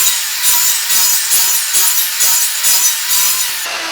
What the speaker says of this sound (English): Bring your saw back. Run it.